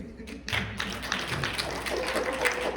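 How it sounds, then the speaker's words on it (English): An audience at a panel discussion applauds, a dense patter of clapping that starts abruptly and holds steady at moderate distance. "let's give her a round of applause"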